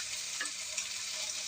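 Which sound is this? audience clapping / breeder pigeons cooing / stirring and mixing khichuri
stirring and mixing khichuri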